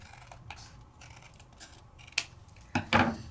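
A paper card base is cut in two with scissors, making quiet snips and a few louder crisp cuts near the end, with no one speaking.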